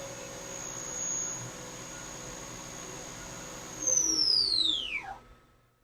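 A 2012 FEELER VMP-580 4-axis CNC vertical machining center spindle runs at 10,000 RPM with a steady high-pitched whine, then a louder whine that sweeps downward and fades as it winds down.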